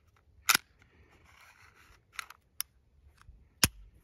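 Sharp dry clicks from a Taurus GX4 pistol's trigger resetting, several isolated snaps spread apart with a faint softer rattle between, close and crisp in a quiet room.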